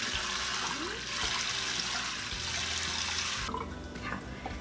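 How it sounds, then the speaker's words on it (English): Mung bean sprouts are rinsed and drained in a sink, with water running steadily and splashing for several seconds, then thinning to a lighter trickle and drip near the end. "Now we're just gonna rinse and drain again."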